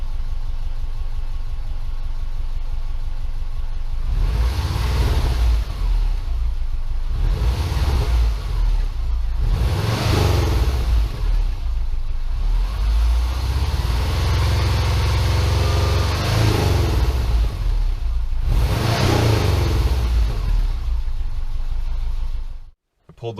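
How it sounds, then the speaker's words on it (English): A Subaru Forester engine with headers and a near-stock exhaust rumbles steadily and loud throughout, with repeated swells of throaty exhaust as it revs and eases off while driving. "The header does add quite a bit of sound to the exhaust"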